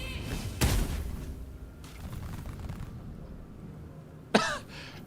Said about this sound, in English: Okay, that's quite the explosion